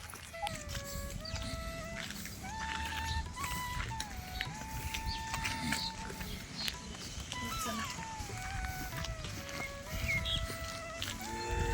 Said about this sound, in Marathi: शांत वातावरण आहे त्यामुळे पक्ष्यांची जी किलबिलट आहे ती आपल्याला